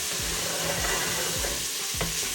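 Onions frying in plenty of oil in a pan for a beef and spinach curry, a steady close sizzle with faint stirring scrapes running throughout, no voices.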